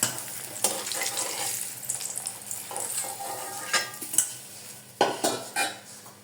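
Chopped onion and garlic fry in hot oil in a pan, giving a steady close sizzle with scraping stirs and a few sharp clinks of a utensil against metal.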